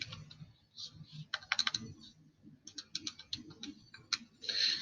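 Quick bursts of keyboard typing as a number is entered, light clicky keystrokes in short irregular runs with pauses, close and fairly quiet.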